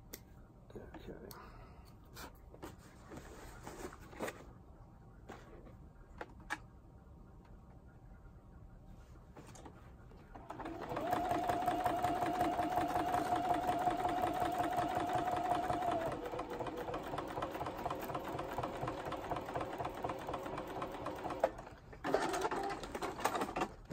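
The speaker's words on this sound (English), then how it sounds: "That is really the thing about free motion quilting, is you're having to regulate the foot pressure, the hand movement, while trying to watch the stitch length." A sewing machine doing free motion quilting on an acrylic-painted pineapple quilt, a fast steady whirring run of stitching for about ten seconds after quiet handling sounds, then a shorter burst near the end.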